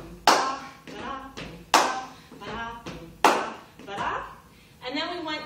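Dancers in a solo jazz workshop beat out a stomp-clap pattern, sharp clap and stomp hits spaced about a second apart, close and distinct, with a voice counting between them.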